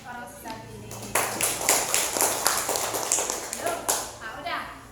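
Pupils in a combined-grade primary school classroom break into applause, a burst of many hands clapping for about three seconds before fading, with children's voices around it.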